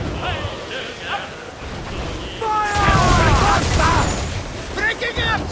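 Ship cannon fire in Assassin's Creed IV Black Flag booms out in a loud, rumbling burst after a quieter stretch, with wind, sea wash and shouting voices mixed into the din of a stormy naval battle.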